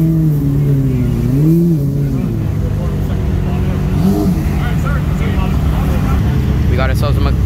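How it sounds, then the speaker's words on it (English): A purple McLaren Senna hypercar rolls in at a car show, its engine a loud, rising and falling rumble close by, with people talking over it throughout. "We got ourselves the McLaren Senna rolling in now."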